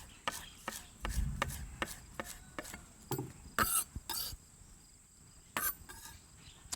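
Sawtooth coriander being chopped with a knife on a board in a Thai outdoor kitchen, a run of quick, sharp taps in uneven rhythm, close and fairly quiet, with a few brief pauses.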